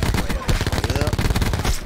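Rapid automatic gunfire from the video game Black Ops 4 comes as a dense, loud burst of closely spaced shots running throughout, punchy and near.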